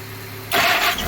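A poorly running Jeep engine gives a short, loud burst of cranking that starts abruptly halfway through and ends almost as quickly.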